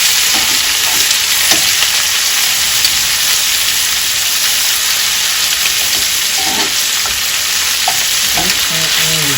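Costco lamb loin sizzles and fries steadily in a hot pan right after being turned, a loud continuous crackling hiss with small pops throughout and no talking.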